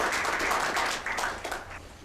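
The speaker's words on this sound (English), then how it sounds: "So please welcome Professor Kim with a big round of applause." Lecture hall audience claps to welcome a professor before a talk on administrative modernization, a short burst of close, uneven clapping that tapers off.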